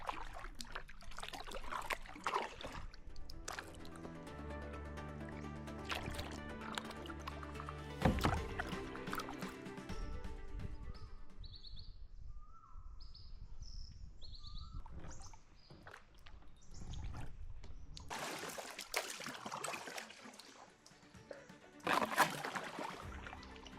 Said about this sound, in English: I took the kayak deep into the mangroves.